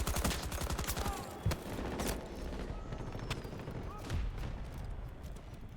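Rapid gunfire crackles in a Battlefield 4 multiplayer match, with dense automatic bursts at the start and scattered sharp shots and thuds afterward, set against a constant battle din.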